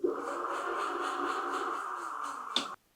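A 2000W Globalkeep Solei X8 electric dirt bike motor running in gear 2 gives a steady, close electric whine that holds evenly for about two and a half seconds, then cuts off after a brief click.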